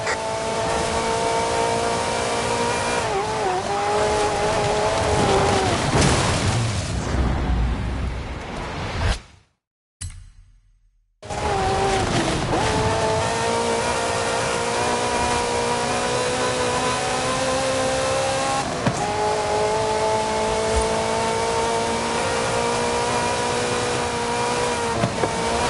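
Ferrari sports car engine in a racing video game on PS5, a loud continuous roar with rising and falling revs, briefly cut to near silence midway before the engine drone resumes steady and close.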